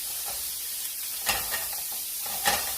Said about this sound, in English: Sear that one side.